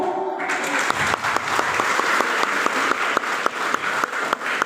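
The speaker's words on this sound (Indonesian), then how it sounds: "Tepuk tangan dulu" A crowd at a church Christmas service claps steadily and evenly throughout, a sustained round of applause with a few sharper claps standing out.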